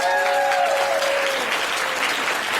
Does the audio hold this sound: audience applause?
yes